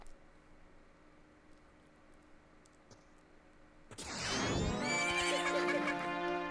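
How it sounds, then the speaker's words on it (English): A horse in the Majora's Mask video game lets out a loud, close whinny that bursts in suddenly after a few seconds of quiet game ambience and holds steady to the end. "Don't take my horse too."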